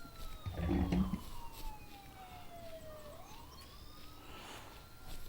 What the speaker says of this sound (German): Polizeiauto hier.